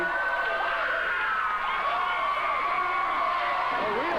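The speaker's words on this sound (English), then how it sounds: "This crowd's louder than actual arenas now." Roaring crowd at a 1989 Memphis wrestling arena, a dense continuous wall of cheering and shouting that stays loud for the whole stretch.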